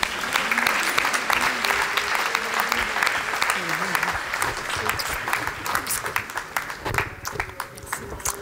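An audience at a New Year's wishes ceremony in 2020 applauds the prize presenters, with a loud, sustained crowd of clapping hands and voices talking and calling out over it throughout.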